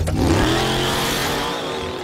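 A cartoon car pulls away, a loud engine revving up and then a sustained droning motor note that fades slightly as it goes, close and alone without talk.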